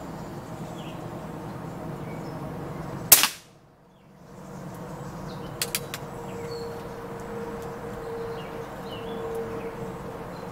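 A Crosman 1322 .22 pump air pistol fires one sharp, loud crack that stops quickly, followed by a moment of near silence, faint background hum and a couple of small clicks.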